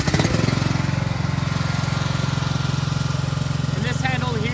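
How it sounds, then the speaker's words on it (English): A small engine on a blade trailer starts and settles into a steady, loud, rhythmic idle chug, running close by without a break. "We'll start this engine now."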